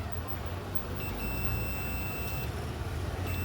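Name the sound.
multimeter continuity buzzer on shorted bridge diode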